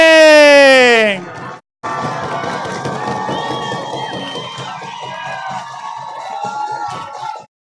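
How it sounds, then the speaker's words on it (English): Crowd at a track cycling race cheering and banging the boards while riders circle, a loud sustained roar of whoops and shouts with rhythmic thumping, preceded by a brief high whistle-like sweep. "Make sure to give them plenty of noise as they're coming around. Bang those boards. Clap those hands."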